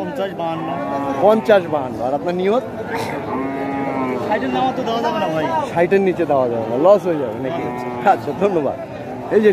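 Cattle low repeatedly at a crowded livestock market in northern Bangladesh, loud nearby moos rising and falling over steady crowd chatter while someone speaks close by throughout.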